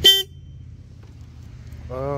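Two brief horn honks from a 2025 Royal Enfield Classic 350 motorcycle, one at the start and one at the end, with a low engine hum between them.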